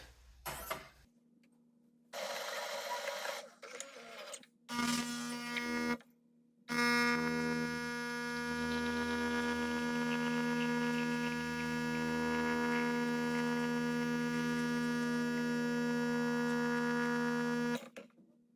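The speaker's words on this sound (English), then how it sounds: "I'm gonna adjust the grind to fine and do an Americano and see how that turns out." A ChefRobot automatic espresso machine makes an Americano on a fine grind setting, starting with short bursts of loud grinding separated by silences, then a long steady pump hum and buzz while it brews, stopping abruptly near the end.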